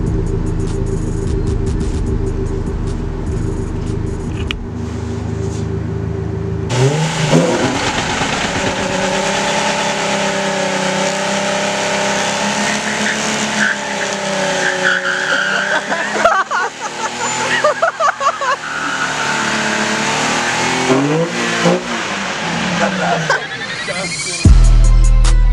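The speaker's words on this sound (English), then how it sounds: "hopefully you could hear it and actually get to enjoy the great noises that turbo" A Ford Focus ST turbo car revs hard, its engine rising and falling in a loud, sustained roar with fluttering turbo sounds, ending in an abrupt burst near the close; no talk over it.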